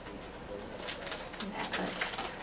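Soft pigeon-like cooing calls repeat several times at a moderate distance over a steady background hiss.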